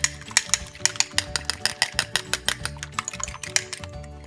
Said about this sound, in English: You're gonna beat it until it's foamy